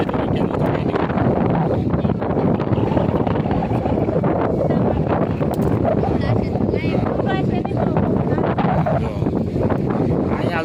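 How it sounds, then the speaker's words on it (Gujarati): Strong wind roars and buffets the microphone in a steady, loud rush on a rooftop, with a person talking faintly underneath. "જો એટલો પવન છે ત્યારે"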